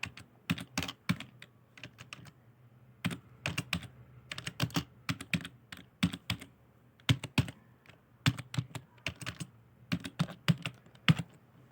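Bursts of fast typing on a computer keyboard while compiling a C program, clustered clicky keystrokes in quick runs separated by short pauses, close and fairly loud with no voices.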